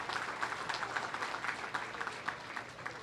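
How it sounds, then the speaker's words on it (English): Audience applause for under-12 boys and girls bowlers at the 2017 Junior Gold Championships, a steady patter of many hands clapping at moderate volume for a few seconds. "let's give these athletes a round of applause as they begin their tournament competition"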